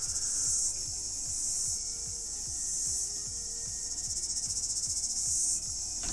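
A cicada buzzing at a window, a loud, steady high-pitched drone that swells and fades in long pulses, with a quick rhythmic ticking beneath it throughout.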